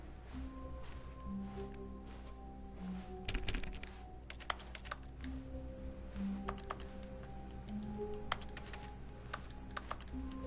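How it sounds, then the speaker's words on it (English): Rapid, close clicking taps from pressing X in the video game The Stanley Parable, a typewriter-like clatter over a low hum, irregular in rhythm with a few louder strikes and no talking. "I love how pressing X sounds like you're using a typewriter."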